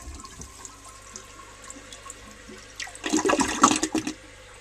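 A 1952 Eljer Sylenta toilet, using 3.5 gallons per flush, flushes with a loud rushing surge of water after a quiet stretch of faint room noise, close by and heard alone.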